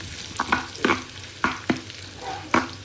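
Ghee tempering sizzles in a pan for dal, a soft continuous frying hiss punctuated by several sharp clattering stirs at uneven intervals, close by with no talk.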